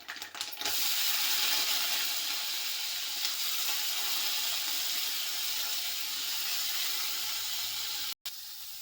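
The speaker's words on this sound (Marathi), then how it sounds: "फुलकोबी शिजत आहे." Cauliflower florets sizzling in a hot pan for a pea and cauliflower dish, a steady loud frying hiss with faint clicking, briefly cut near the end.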